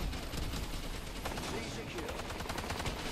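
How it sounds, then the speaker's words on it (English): Sustained automatic machine gun fire in the video game Call of Duty: Advanced Warfare, a dense, continuous rapid rattle that runs loud and close throughout, with a voice talking under it. "this is an auto machine gun?"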